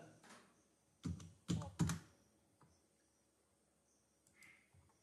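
Keystrokes on a computer keyboard entering a copy command in CAD software: a few quick, crisp clicks in a short burst, then sparse lighter taps in a quiet room.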